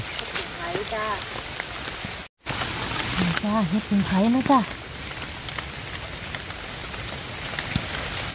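Steady rain patters loudly on a surface close by while wild mushrooms are gathered in Thailand, and a person speaks briefly in a sing-song voice over it.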